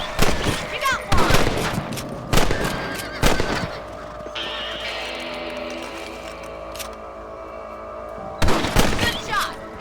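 Rifle shots ring out in Red Dead Redemption, several sharp loud cracks spaced a second or two apart with a lull in the middle, open-air ambience and faint game sounds between them.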